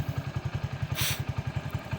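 A 2022 Honda Pridor motorcycle in excellent condition idles close up, its silencer putting out a steady, even low thumping pulse, with a brief burst of hiss partway through.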